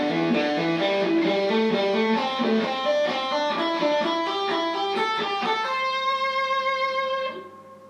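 Guitar running pentatonic scale fragments across all the strings, a steady stream of single picked notes moving up through the neck, the last notes ringing out and fading.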